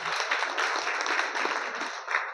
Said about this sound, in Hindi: अब जिनके जिनके हाथ नहीं उठे वो जोरदार ताली बजाओ